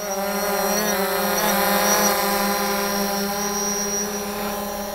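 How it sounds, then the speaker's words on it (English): A drone fitted with bright Lume Cube lights flies overhead, its propellers giving a loud, steady buzzing whine that wavers slightly in pitch as it climbs and turns nearby. "All right, follow the drone."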